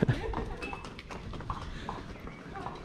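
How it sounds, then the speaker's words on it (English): Horses' hooves clip-clop on a street in Santiago, Guatemala, an uneven run of knocks under people talking nearby. "Look at these horses."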